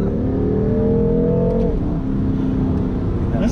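A BMW M3 accelerates hard, its engine roaring loud and close with a rising then shifting pitch as it pulls, a steady dense growl throughout with no talking.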